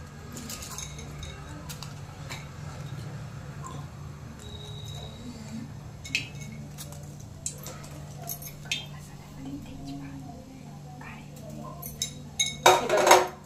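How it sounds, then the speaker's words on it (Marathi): Whole spices such as cumin, shahjeera, cinnamon and cardamom drop into hot oil in a pan, giving scattered light clinks and ticks that quicken into a cluster of sharp taps near the end, while a voice talks quietly throughout. "त्याचबरोबर मी यामध्ये खडे मसाले टाकत आहे"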